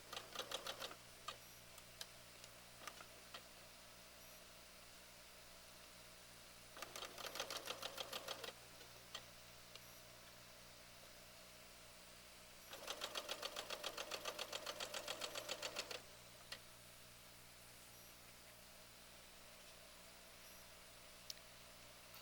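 Two bursts of rapid, even stitching from a sewing machine chain sewing, each a few seconds long, separated by quiet pauses with occasional clicks and handling noises, over a low steady hum and no talking.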